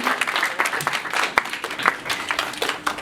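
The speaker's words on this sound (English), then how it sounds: "round of applause for this really lovely gentleman" An audience at a cosplay bullying panel at an anime convention claps for a guest, a steady moderate round of applause from a room crowd lasting the whole stretch.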